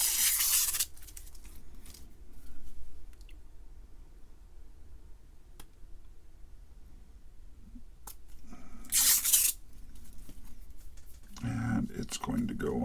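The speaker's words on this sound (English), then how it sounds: "the back panel still has plastic on it I got to peel off" Protective plastic film being peeled off the back panel of an Altair 8800 replica case, heard as two loud, hissy tearing bursts, a short one at the start and another around nine seconds, with quiet handling noise between and after.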